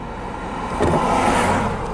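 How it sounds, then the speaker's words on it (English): A car approaches and drives past on a road near Chloride, Arizona, a broad engine and tire rush that swells in the middle and stays loud as it goes by, with no talking. "Got a car coming up on us, so we're going to let him go by."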